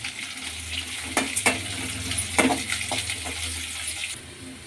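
Chana dal and urad dal fry in hot oil in a pan, a continuous close crackling sizzle with a few sharper scrapes and clatters from stirring partway through.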